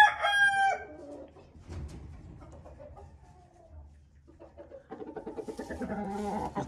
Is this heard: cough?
no